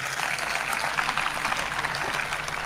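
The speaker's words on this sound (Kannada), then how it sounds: "ತಮ್ಮ ಜೋರಾದ ಒಂದು ಚಪ್ಪಾಳೆ ಆ ತಾಯಿಗೆ." A crowd at the Gavimath fair honours a woman with loud applause, a thick, steady roar of clapping from many hands that fills the short stretch.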